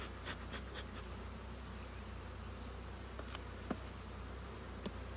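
A honeybee colony buzzes steadily through an acacia honey harvest as the hive is being closed, a dense, continuous hum with a few faint clicks and taps from handling the frames.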